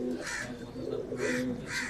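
A fancy pigeon of the Pagal Topi breed coos nearby in Rawalpindi, giving three soft, rhythmic coos at even intervals over low background noise.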